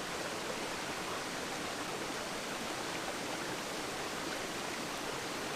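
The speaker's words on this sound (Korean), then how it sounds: "떨어지는 폭포수는 어느샌가 비현실적인 새파란 계곡물로 변해 있습니다." A waterfall pours down into a vivid blue valley stream in a Paleozoic geopark in Taebaek, making a dense, constant rushing roar with no pauses.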